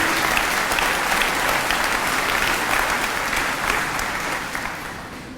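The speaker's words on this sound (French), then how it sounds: "Vous pouvez l'applaudir, il le mérite." A large crowd at a Laurent Wauquiez campaign rally in Mandelieu applauds loudly and continuously, a dense sustained roar of clapping that tapers slightly at the end.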